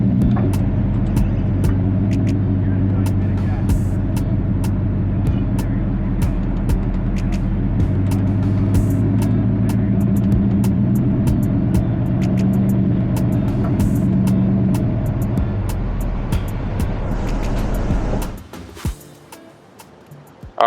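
A Jeep runs steadily on sand and backs up, its engine a loud, continuous low rumble that holds for about eighteen seconds before it suddenly cuts off into near silence.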